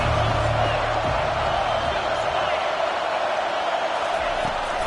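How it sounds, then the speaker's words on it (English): A football stadium crowd at a Clemson vs Miami game roars in a steady, dense wash of noise, under a commentator's voice. "This crowd trying to make life miserable for this offense."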